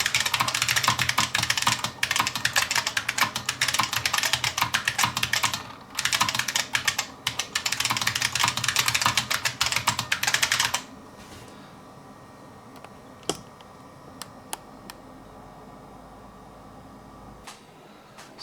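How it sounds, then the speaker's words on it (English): Typing on a Model F keyboard, a dense, loud run of clicky keystrokes for about eleven seconds, then sparse quiet taps and a few isolated key clicks against near silence. "enjoy the Model F keyboard here"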